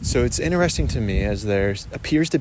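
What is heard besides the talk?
No distinct noise like a dog, phone or traffic.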